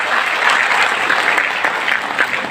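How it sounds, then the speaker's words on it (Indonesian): Applause from an audience at a teacher education graduation ceremony, a dense and loud sustained clapping that fills the whole stretch with slight swells. "Saya melihat tepuk tangan kalian aja saya udah senang."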